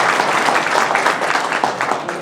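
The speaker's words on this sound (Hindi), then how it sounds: "जोरदार ताली हो जाए अपने आप की" A large audience applauds at the AICPE Education Excellence Awards 2024, loud, dense clapping from many hands that swells and rolls on throughout without a break.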